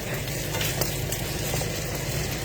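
Meat and onions sizzle steadily in a frying pan for cabbage rolls, a dense, continuous crackle with a low hum underneath and no talking.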